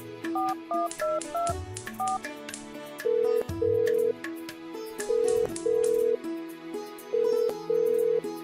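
A rapid series of telephone keypad dial tones plays, followed by a repeating ringback tone in steady pulses, loud and close.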